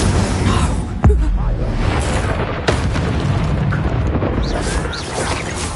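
A fire spell is cast in a wizarding game, a sharp booming burst at about one second and a second impact near two and a half seconds, set against a dense, continuous roar of spell effects and game noise.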